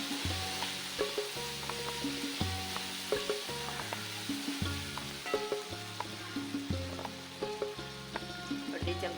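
Repeated scraping and clinking of a spoon stirring cumin and salt in a hot pan, with a gentle sizzle underneath; irregular strokes close by.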